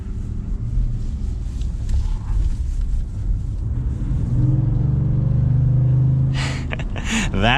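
A 2022 Ford F-150 V8 accelerating, its deep engine drone rising into a louder, rising-pitch roar as revs climb, heard from inside the truck with a few brief sharp noises near the end.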